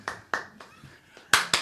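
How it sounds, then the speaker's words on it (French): A small studio audience claps in sparse, uneven bursts, a handful of distinct sharp claps spread out, with the loudest pair toward the end and quiet gaps between them. "Alors, tout le studio applaudit à rompre."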